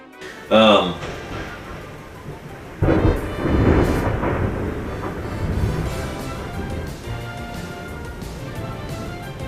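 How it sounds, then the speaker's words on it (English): Thunder rumbles during a rainstorm outside, a sharp crack near the start followed by a long rolling boom that fades slowly, with a person talking indoors over it. "Sorry, the thunder had to say something."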